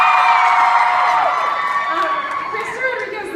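BroadwayCon audience cheering and whooping at a fan convention event, a loud, continuous wash of high shouts and crowd noise that stays steady for a few seconds.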